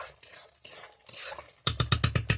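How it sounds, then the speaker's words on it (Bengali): Spice paste for a fish curry is stirred in a pan, soft scraping rubs giving way to a quick run of sharp metallic taps and scrapes near the end; close, faint sizzle, no voices. "সমস্ত মশলা দেওয়ার পরে খুবই ভালোভাবে আস্তে আস্তে করে মশলাগুলোকে কষে নিতে হবে"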